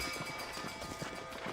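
Horse galloping in Red Dead Redemption, a quick run of hoofbeats clip-clopping steadily and close, fairly quiet, with no talk over it.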